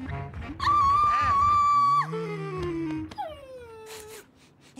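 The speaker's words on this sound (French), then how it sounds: "C'est un dalmatien, n'est-ce pas?" A cartoon dalmatian at a fire station whimpers and whines in drawn-out, wavering cries that slide up and down, close and fairly loud, with a short pause between the cries.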